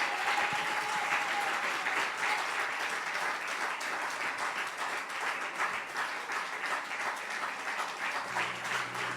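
A congregation at a church Father's Day service applauds in a broad, even wash of clapping, sustained and moderately distant, with a faint tone and some murmuring underneath.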